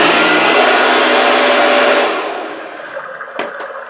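A Eureka model 2132 vacuum cleaner motor runs with a loud, steady whine for about two seconds, then spins down and fades, leaving a few faint clicks.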